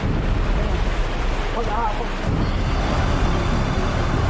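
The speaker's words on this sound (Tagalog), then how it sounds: "hindi pa ito storm surge o daluyong, kundi ang tinatawag na swelling" Large ocean swells roar steadily on a Catanduanes shore ahead of a super typhoon, with waves breaking and wind buffeting the microphone throughout.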